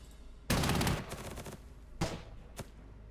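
Bombs and gunfire burst in a World War II strategy game set in Poland, 1939: a heavy blast of explosions followed by two shorter impacts, loud against a quiet background.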